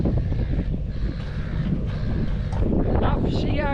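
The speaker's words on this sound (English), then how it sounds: "Bit windy." Wind buffets the microphone at a boat ramp beside a Stacer Proline 385 tinny, a rough, fluctuating low roar that runs throughout, with people talking briefly under it.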